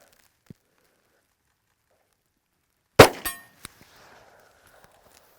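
A single Glock 48 pistol shot cracks sharply out of near silence, followed almost at once by a bright metallic clang as the round strikes a steel target about 50 yards away, with a brief ringing tail and faint clicks afterward.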